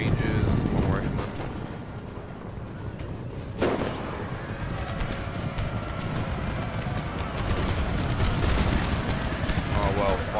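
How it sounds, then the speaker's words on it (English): Rifle fire from Rangers shooting at militia in an Empire Total War battle, a dense continuous roar of scattered shots and rumbling volleys. Someone talks over the top of it. "So we're getting shot at now by, I'm guessing, Rangers, one rifleman."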